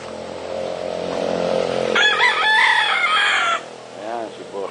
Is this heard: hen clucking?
yes